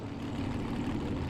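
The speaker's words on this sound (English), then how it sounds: "Serge Marino, supercharged dragster. Carlisle Tools also got a blower on it." A supercharged, blower-equipped dragster runs at Luskville Dragway. It makes a steady, dense rumbling roar that holds at an even level at some distance, with no talk.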